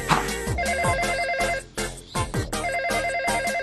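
Electronic telephone ringtone trilling in repeated bursts, loud and close with music mixed in underneath, in an animated Dragon Ball Super scene.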